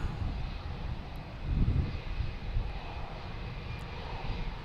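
Jet airliners at Boston Logan airport, including a Delta and an American Airlines jet and an Aer Lingus A330-300, a low continuous engine rumble that swells briefly, distant and steady with no talk.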